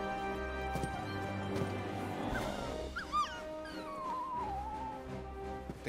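A dog whimpers in Final Fantasy XVI, with a few brief high whines and a drawn-out falling whine over steady low game ambience and music, moderately quiet.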